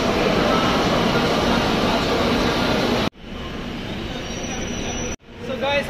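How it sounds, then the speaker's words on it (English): Riding inside an air-conditioned Kolkata metro train, a loud steady roar of wheels and air rushes on, then cuts abruptly to a quieter hum as the sound shifts, ending with a sudden drop and rising rumble again. "I'm in metro right now, guys."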